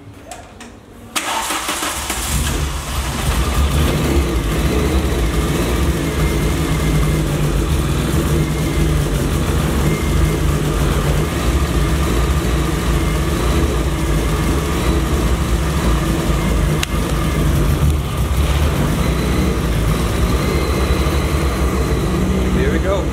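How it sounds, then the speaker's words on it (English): Mk1 car with a swapped 2-litre 8-valve engine cranks and catches on its first start, then settles into a loud, steady idle that drones on close by with little variation, a voice talking over it. "First startup doesn't sound too bad. I'm just gonna let it idle a bit"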